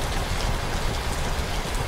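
Heavy rain in the Trainz Railroad Simulator 2019 game on an Indian railway route: a dense, steady hiss of downpour with no pauses, loud and close throughout.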